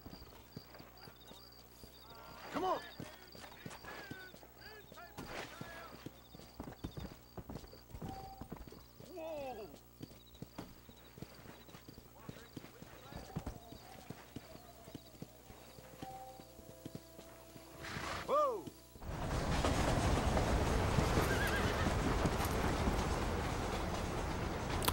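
A horse's hooves clip-clop at an irregular walking pace in the Red Dead Redemption game, with a short spoken line and occasional snorts, before a loud passing train rumble takes over the final seconds.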